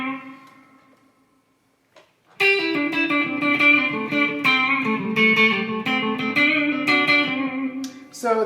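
Electric guitar through a DOD FX96 Echo FX analog delay pedal: one sustained note fades to near silence, then a steady run of played notes and chords rings on with echoing repeats, loud and close.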